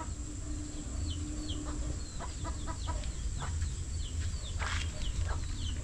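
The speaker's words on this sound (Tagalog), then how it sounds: "Ano yan? Ibon." Birds call out by a hut at a fish pond, their short rising chirps repeating in scattered bursts over a steady, loud outdoor background hum, with a few sharper clicks and rustles mixed in.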